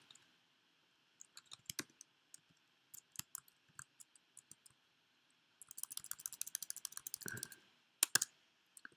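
Computer keyboard typing while entering a command in the hacking game Hacknet, with sparse isolated key clicks at first, then a quicker burst of keystrokes and a couple of sharp final taps, close and fairly quiet.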